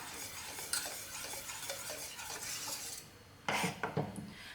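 Mango cake batter being mixed with milk in a bowl, a steady soft wet stirring and scraping that ends in a few sharper clinks of utensil on bowl, close and fairly quiet.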